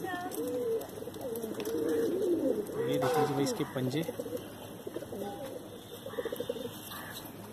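Pigeons coo close by in repeated rolling calls, overlapping with someone talking in the foreground.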